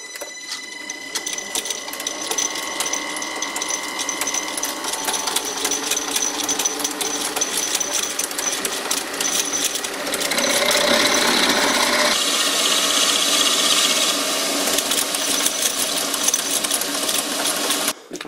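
A drill fitted with a spade bit bores into scrap metal that is being made into a bowl gouge, giving a continuous harsh grinding rasp that roughens and grows louder partway through, close and without talk.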